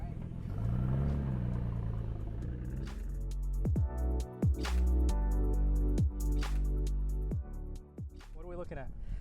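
A 1990 Nissan Skyline R32 GTS-4, all-wheel drive, idles and rumbles close by while being parked, with revs rising and falling and sharp clicks and knocks, and people talking over it.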